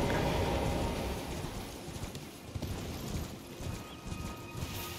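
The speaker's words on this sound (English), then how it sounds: "Can I use my horse? I actually can." A horse's hooves clip-clop at a steady trot across open ground in the video game Elden Ring, quick rhythmic thuds over a soft ambient wash.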